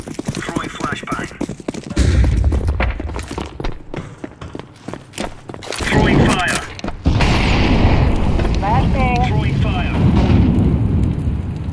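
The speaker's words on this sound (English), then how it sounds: "Throwing flashbang." In the Counter Strike 2 shooter, a flashbang grenade is thrown and detonates with a loud, sharp boom, mixed with bursts of gunfire, clattering footsteps and other blasts in a busy firefight.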